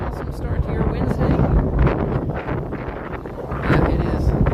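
Gusty wind buffets an outdoor microphone at an opening-day flower and garden festival at EPCOT in Walt Disney World, a steady low rumble with louder surges, underneath a person talking.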